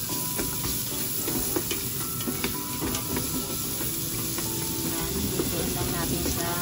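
Onion frying in a pan for kare-kare, a steady loud sizzle with scattered clinks of stirring throughout.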